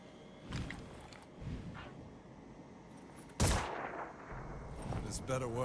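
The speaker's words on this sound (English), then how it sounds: "Try to take some pistol shots." Pistol shots in the turn-based game Phoenix Point, a few sharp cracks with one loud report standing out among scattered impacts and game effects.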